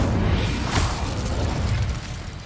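Incendio fire spell cast in Hogwarts Legacy, a sharp whooshing burst of flame that rises into a loud, steady rumble and crackle, then eases off near the end.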